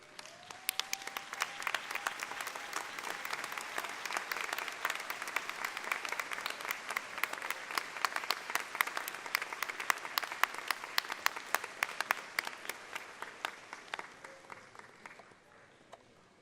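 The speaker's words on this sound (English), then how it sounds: "Please stand up and applaud the people who got you here" Large audience at a university doctoral graduation ceremony standing and applauding, dense sustained clapping filling the hall and tapering off near the end, with no talking over it.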